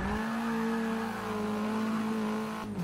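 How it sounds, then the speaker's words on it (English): A turbocharged Nissan IDx in Forza Motorsport 6 holds a steady, loud engine drone with a constant pitch for nearly three seconds, then shifts briefly at the end, with no talking. "Definitely hear a turbo on there"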